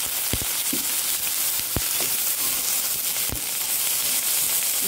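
Water poured into a pan of frying spice paste sets off a loud steady sizzle and hiss, broken by a few sharp clinks of a utensil against the pan, with no voices.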